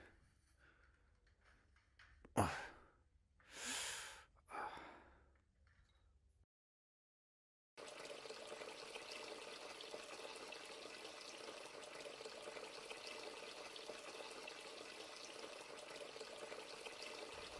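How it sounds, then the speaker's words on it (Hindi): A kitchen sink tap left running, giving a steady broadband rush of flowing water that continues alone for about ten seconds after a few brief clatters and a short silence. "मैंने ही सिंक का पानी खुला छोड़ा था ना?"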